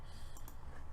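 A computer mouse clicks once or twice in quick succession, close by and quiet, against a steady background hum.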